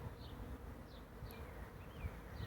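A swarm of honeybees settling near the top of a cluster gives off a steady, dense buzzing hum that fills the whole stretch, with individual bees occasionally whining past close by.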